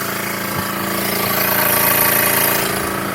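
An air compressor runs hard while building pressure for a Stanley nail gun, a loud, steady, close mechanical drone with a rapid pulsing rattle that holds throughout.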